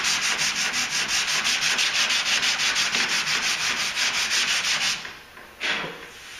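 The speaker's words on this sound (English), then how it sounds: "for sanding with 180, that's single stage white that's on this tailgate." Steady rhythmic sanding with 180-grit paper scrapes back and forth over single-stage white paint on a GMC Sierra tailgate, close and continuous, then slows into a couple of final strokes.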